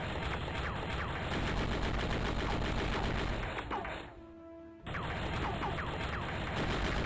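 Rapid automatic gunfire in the Crazy Flasher 5 video game, a steady, dense rattle of shots with a brief quieter gap partway through, then the firing resumes.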